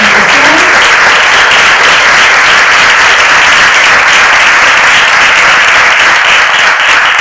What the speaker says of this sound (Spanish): Yo los y les invito a que brindemos un inmenso aplauso para iniciar esta presentación.